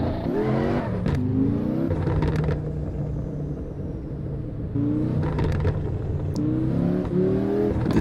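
A turbocharged car in Assetto Corsa drives with a loud, continuous engine note that climbs in pitch through repeated gear changes, with brief sharp clicks between shifts and no talk.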